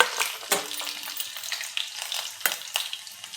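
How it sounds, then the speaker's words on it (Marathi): Garlic sizzling in a hot oil tempering already crackling with mustard seeds and cumin, giving close, bright frying hiss with sharp popping bursts throughout. "लसूण टाकायचं फोडणीला आपल्याला."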